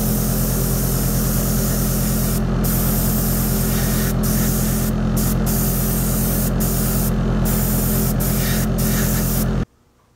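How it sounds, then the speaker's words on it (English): An airbrush sprays paint onto a scale diorama model in a loud, continuous hissing stream with a steady hum beneath it, broken by brief pauses, then cutting off abruptly near the end. "now it's time for me to use my airbrush and paint the entire model with the main color"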